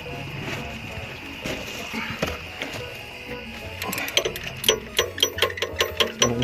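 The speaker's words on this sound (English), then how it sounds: "Spend the next eternity twisting out the bolt." A screwdriver twisting out a bolt during an alternator replacement on a Toyota Camry: quiet scraping that becomes a rapid, evenly spaced run of sharp ratcheting clicks near the end, with a voice speaking early on.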